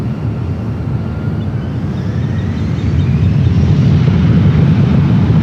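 An airliner taking off from runway 1 right at SFO, a loud, continuous deep engine roar building in strength over several seconds with a faint rising whine, close and alone.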